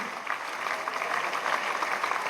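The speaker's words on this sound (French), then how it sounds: "on l'applaudit très fort" Festive evening gathering in Lourdes, an audience clapping in a dense, even wash that runs throughout without pause, moderately loud and slightly distant, with no clear voices on top.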